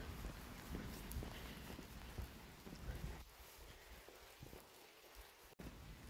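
Steady rain patters on surfaces during an October walk outdoors, with footsteps crunching underneath. The hiss thins midway and a brief dropout breaks it, with no voices heard.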